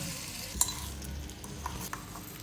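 Tomatoes fry in oil in a pot on a clay stove for a sweet chutney with sugar and salt, giving a low steady sizzle with a few sharp stirring clinks, close and fairly quiet.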